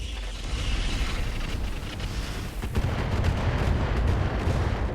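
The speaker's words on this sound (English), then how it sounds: "I'm going to go ahead and fire one set of rocket 20s here as well." A volley of rocket 20s launched in RogueTech, rumbling booms and crackling blasts layered into a dense, loud barrage that swells midway and keeps roaring to the end.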